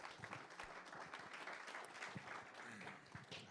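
Applause from a church congregation in Esbjerg, a dense, steady stretch of clapping that fills the whole moment at moderate loudness.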